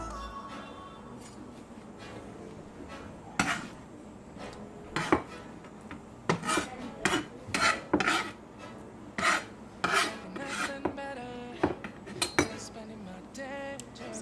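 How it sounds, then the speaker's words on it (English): Chopped onions scooped from a board into a bowl, heard as irregular sharp scrapes and clinks of a utensil against the dish, spaced unevenly and fairly close. "I'll go ahead and scoop that into a bowl"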